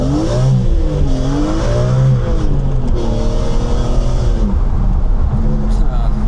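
A BMW E36 328i pulls hard under acceleration, its engine note rising loud and close through the gears over a steady low rumble, with a voice talking over it.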